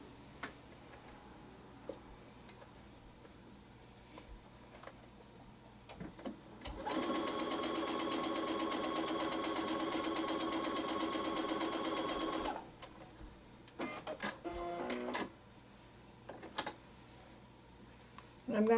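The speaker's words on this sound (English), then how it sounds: "Let me just quickly sew this one." Sewing machine stitching a Dresden Plate quilt block runs in one steady, loud burst of several seconds, flanked by quieter table handling and fabric rustles.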